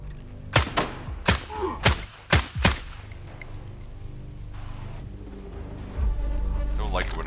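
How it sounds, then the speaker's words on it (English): Hand grenades going off in Stalker 2: a quick run of six sharp, punchy blasts with thuddy tails, followed by quieter rumbling ambience and a low surge near the end, with faint voices in the background. "Don't like it when they throw hand grenades at me."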